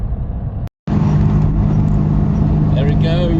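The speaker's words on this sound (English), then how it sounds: "Cars are rolling along very nicely indeed." A 3.0 Ford Capri and a 1.6 Ford Taunus cruise along a road, a loud, steady engine and road drone heard from inside, broken by a brief dropout, with a person talking over it.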